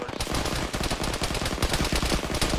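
Sustained automatic gunfire in a military video game, dense rapid bursts of machine-gun fire rattling loud and close throughout, with no talking.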